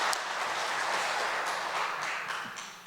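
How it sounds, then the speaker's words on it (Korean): A church congregation at a Wednesday service gives an encouraging round of applause, dense overlapping clapping that holds steady and then begins to taper off near the end. "우리 함께 격려의 박수"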